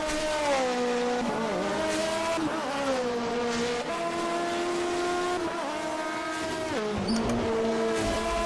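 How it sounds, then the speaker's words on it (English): Alfa Romeo 155 Ti touring car in a racing game at Spa-Francorchamps, engine tone stepping sharply down through repeated downshifts with brief pitch drops, loud and continuous with no talk. "We try banging down the gears."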